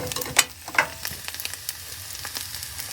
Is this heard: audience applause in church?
no